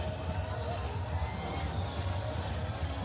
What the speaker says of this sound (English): They are now cheering